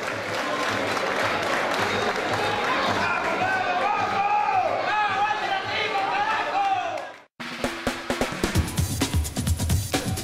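Audience applause with cheering at a televised sports segment, a dense sustained crowd roar with clapping that cuts off abruptly and gives way to louder sharp individual claps near the end.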